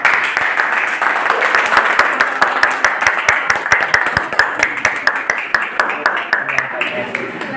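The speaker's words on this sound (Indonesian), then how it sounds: "Tepuk tangan" Students in a classroom discussion clap together, a loud run of sharp, close claps that thins into more distinct, rhythmic hand slaps toward the end, with voices speaking underneath.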